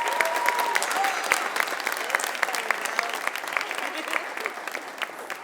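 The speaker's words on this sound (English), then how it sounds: "a round of applause" An audience at a high school college signing ceremony applauds a student, with steady, moderately loud clapping that carries through the whole stretch and lets up slightly toward the end.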